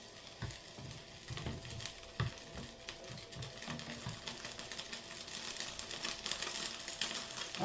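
Food, soaked and turned, sizzling in a pan over medium heat, a steady close crackle with intermittent clicks and light knocks throughout, with no voices.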